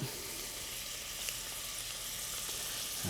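Roughly chopped onion sweating in a pot, a steady soft sizzle hissing evenly throughout, fairly quiet and close with no talk over it.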